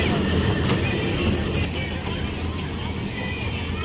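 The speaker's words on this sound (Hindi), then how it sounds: "ये देखे बच्चे लोग की ट्रेन एक्टिविटी" A children's ride-on train runs at an outdoor Eid fair in Qatar, making a loud, steady rolling rumble with faint clatter. A person talks over the noise throughout.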